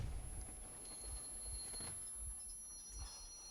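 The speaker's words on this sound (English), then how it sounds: "We're just riding the train now for a little while." A train rolling along in the video game Metro Exodus, a steady low rumble with soft rhythmic thumps from the wheels beneath a faint high whine, continuous and unbroken.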